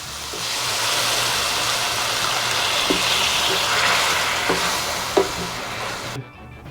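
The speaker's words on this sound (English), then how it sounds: "Now we can add in our braising liquid" Marsala braising liquid poured a little at a time into a hot pan of flour-thickened short rib base, giving a steady, fairly loud sizzle and bubbling hiss with faint stirring clicks, then cutting off abruptly.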